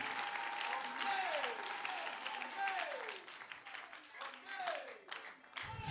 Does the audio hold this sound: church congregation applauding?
yes